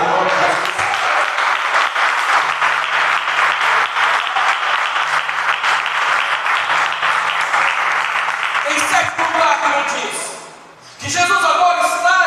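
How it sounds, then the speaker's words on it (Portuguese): A church congregation applauds loudly during a Portuguese-language worship service: sustained, dense clapping that fades briefly near the end and then resumes, with voices mixed in. "Será que você pode aplaudir o nome de Jesus?"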